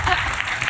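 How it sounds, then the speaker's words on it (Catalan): Brief burst of audience applause at a live comedy podcast show at the Cruïlla music festival, loud, close clapping lasting under a second with some voices mixed in. "Un aplaudiment per Mamadouxa, sisplau."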